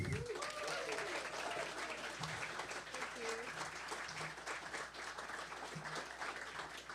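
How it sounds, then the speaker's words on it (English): An audience at the St Louis Tionól 2022 in St. Louis applauds steadily throughout, a continuous wash of clapping from a crowd with a few faint voices mixed in. "So big round of applause all the way from Bedford, just outside London in England, Miss Kathleen Connelly."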